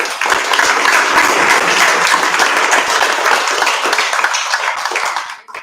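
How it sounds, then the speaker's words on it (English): Dense, steady applause from a crowd of people at a World Allergy Week event, loud and continuous for several seconds before tapering off at the end. "Please give it up for yourself one time."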